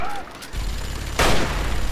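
Minigun fire in the Fallout 3 video game, a sudden loud rattling burst that erupts partway through after a quieter stretch of background game noise.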